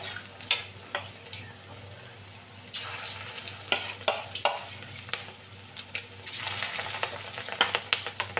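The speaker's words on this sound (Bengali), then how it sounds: "এবার মাছগুলো চামচের সাহায্যে দিয়ে দিচ্ছি দিয়ে একটু লাল লাল করে ভেজে নেবো মাছগুলোকে" Katla fish belly pieces frying in hot white oil, a close crackling sizzle with sharp spitting pops and spoon scrapes, swelling louder toward the end, no talking.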